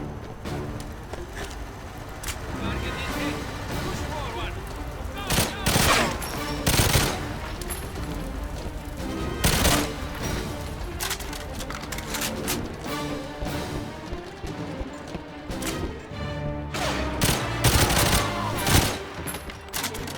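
Shotgun gunfire in GoldenEye 007: Reloaded: repeated loud, sharp blasts, some in quick bursts and others spaced apart, with clattering impacts across a tense firefight.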